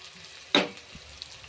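Onion and ginger-garlic paste dropped into hot oil in a pan for a soya and greens curry, one sharp loud sizzle burst that quickly fades to a soft crackle.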